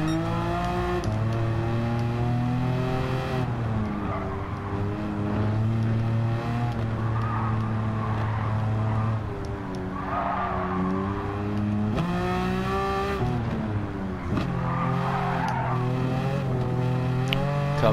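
A Volkswagen Beetle swapped to a Porsche engine races in Gran Turismo 7, its engine note climbing and dropping through gear changes, with loud, steady revving and brief tire squeal in the corners.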